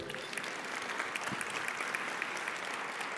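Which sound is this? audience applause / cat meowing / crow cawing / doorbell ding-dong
audience applause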